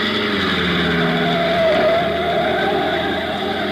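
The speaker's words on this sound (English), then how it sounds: "a black sedan twists up the curving mountain road leading to the inland plantation country of Puerto Rico" A black sedan climbs a winding mountain road in an old radio drama effect, its engine a steady, loud, close drone that rises slightly in pitch as if shifting, with no voices.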